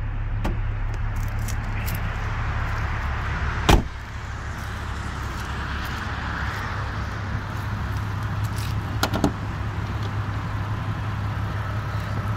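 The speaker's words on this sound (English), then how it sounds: "let's open up the hood" Hood of a 2004 VW Mk4 R32 being opened: a sharp latch click rises once over a steady low rumble, followed later by a few faint knocks.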